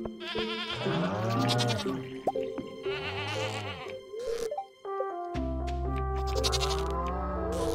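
Goats on a farm in the video game Stardew Valley bleat in several loud, wavering calls, clear and close, with short gaps between them and no talking.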